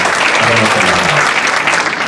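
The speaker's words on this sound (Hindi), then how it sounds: "आप सब तालियों से उनका इस्तकबाल कीजिए" A crowd in a hall gives loud, dense, sustained applause welcoming an MLA at a poetry gathering, with a brief voice heard under the clapping.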